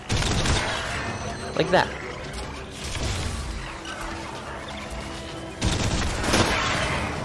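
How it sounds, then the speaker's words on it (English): Micro missiles fired from the wrist in the Iron Man VR video game, whooshing bursts and crackling impacts with rumbling game effects, while someone talks briefly over it. "by tilting down your wrist, you have little like micro missiles which you can fire out"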